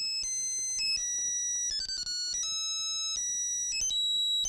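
A mobile phone ringtone plays a repeating electronic melody of bright, clear tones, loud and steady with no talk over it, in a Telugu comedy movie scene.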